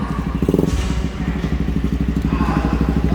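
A small ATV engine idles with a rapid, steady chugging beat, close and fairly loud, with brief clattering and faint voices in the background.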